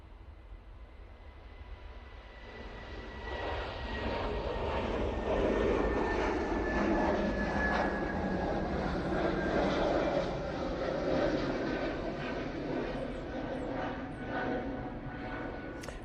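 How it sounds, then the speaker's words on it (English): A Lufthansa Airbus A320neo departing Manchester Airport, its jet engines swelling into a loud, sustained roar that stays strong as it climbs away, with no talk. "This is Lufthansa A320 Neo and Lufthansa City livery going off to"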